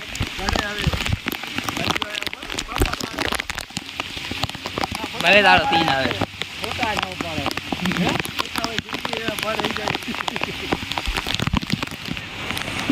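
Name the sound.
rain falling by a lake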